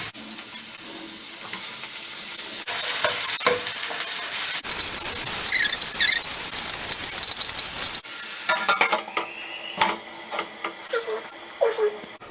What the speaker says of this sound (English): Now let's throw in the tomatoes.